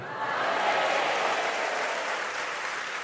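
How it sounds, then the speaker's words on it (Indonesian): A steady wash of applause from a church congregation during a sermon, loud and sustained for a few seconds with no voices standing out. "Ini yang tepuk tangan yang patah hati semua ini"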